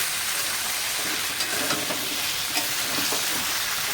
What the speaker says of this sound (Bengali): মশলা দিয়ে কষানো হচ্ছে, আলু পটলটারে কষিয়ে চিংড়ি মাছ দিয়ে নেড়ে চেড়ে ঝোল দেওয়া হবে।